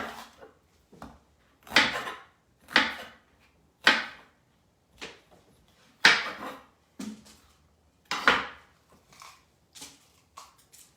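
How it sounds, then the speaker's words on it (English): A knife chopping vegetables into big pieces on a cutting board for meal prep: about a dozen crisp, irregularly spaced cuts and thunks, close and clear, with no talking. "So I'm gonna just cut these into big pieces."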